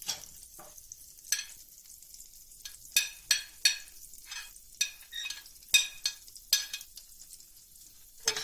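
A mixed omelette cooks in a pan, giving a soft, low sizzle broken by repeated scraping and stirring strokes of a utensil against the pan.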